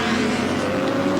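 Kawasaki superbikes race past in a 1983 heat, a loud, steady engine roar close by that holds for just over a second with no voice over it.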